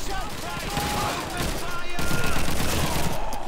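Sustained gunfire in the Call of Duty 2 video game, dense rapid machine-gun bursts and overlapping shots forming a continuous loud fusillade, with faint game voices underneath.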